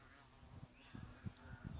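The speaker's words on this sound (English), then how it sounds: "I've got me a carpenter bee who wants to come" A carpenter bee buzzes in short bursts near fresh wooden framing at a tiny house build site, its drone rising and fading as it hovers close by.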